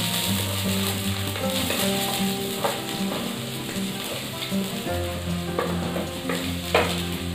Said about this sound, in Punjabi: ਸਭ ਤੋਂ ਪਹਿਲਾਂ ਆਪਾਂ ਥੋੜ੍ਹਾ ਜਿਹਾ ਪਾਵਾਂਗੇ ਜੀਰਾ, ਜੀਰੇ ਤੋਂ ਬਾਅਦ ਪਿਆਜ਼